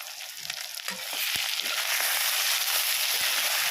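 Onions fry in a pan with a loud, bright, continuous sizzle that swells once the lid comes off, with a few scraping stirs near the start.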